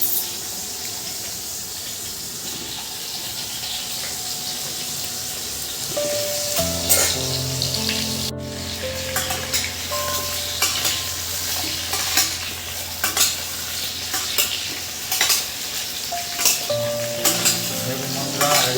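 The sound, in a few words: cut potatoes frying in hot oil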